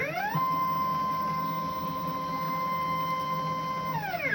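CNC machine traversing into position while making knobs, a steady whining motor tone that ramps up, holds constant for several seconds, then winds down at the end.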